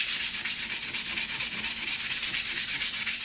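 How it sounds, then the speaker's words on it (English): Sandpaper of 100 grit rubs back and forth across a wooden surface being prepped for wood burning, giving close, even, rhythmic scratchy strokes, alone and without speech. "Now, alternatively, you could use some sandpaper."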